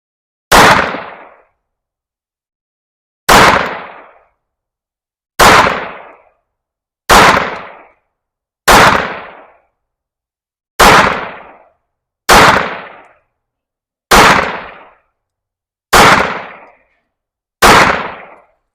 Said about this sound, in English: We'll shoot another target, see where we're at now.